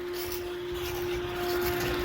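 A steady, low droning hum of grain bin fans running constantly, with a wash of even background noise and no voices.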